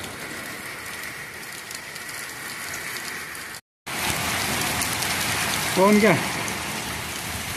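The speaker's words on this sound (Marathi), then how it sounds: "कसा वाटतं सांगा आता आमच्या गावाकडला पाऊस" Monsoon rain falls on a village in a steady, dense patter with a brief dropout midway; a voice speaks briefly near the end over the downpour.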